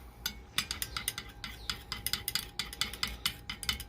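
A spoon clinks and scrapes rapidly against a cup while liquid plastic bait is mixed with color drops, a close, busy run of small taps with no talking.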